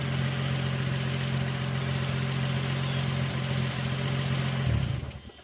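A 2004 Infiniti G35 engine idles with a steady low hum and rumble, then shuts off near the end, the sound dropping away quickly into quiet.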